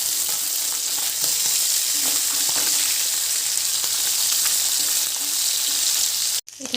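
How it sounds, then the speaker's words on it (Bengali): Fish fries in hot mustard oil in a kadai, giving a loud, steady, crackling sizzle close up that runs without pause and cuts off abruptly near the end. "মাছটা ভাজা ভাজা করে নেব"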